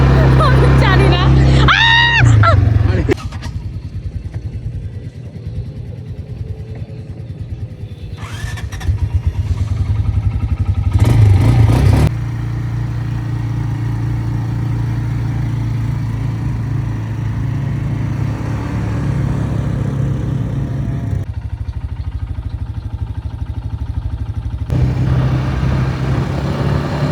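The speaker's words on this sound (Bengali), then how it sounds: "আমরা এখন এটিভি রাইডে আছি" ATV ride across desert dunes near Dubai, with a steady engine drone running throughout, rising in short revving bursts, heard up close under wind and occasional talk.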